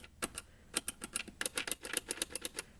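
Power and reset switches on an 8-bit Gamerz Tek clone NES console, clicked repeatedly up close: a quick run of about twenty sharp, crisp clicks in an uneven rhythm, with no talking.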